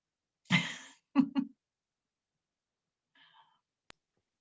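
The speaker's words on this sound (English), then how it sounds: "let me just clear my throat here" A man clears his throat indoors during a talk, two short rough bursts close to the mic followed by faint breathy noise and a tiny click, then quiet.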